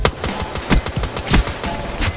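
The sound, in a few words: gunfire in video game Call of Duty Black Ops 3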